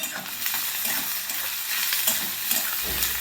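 Chopped onion fries in a pan for a spicy black-bean curry, giving a steady, close sizzling hiss with faint stirring scrapes throughout and no voices.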